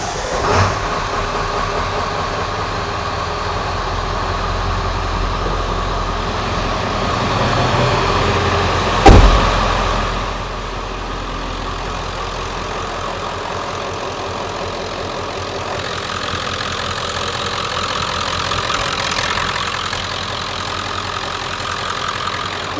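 A Ford F-350 with the 7.3L PowerStroke diesel fires up with a short burst near the nine-second mark, then settles into a steady, rumbling idle close by with a knocking diesel clatter and no talk.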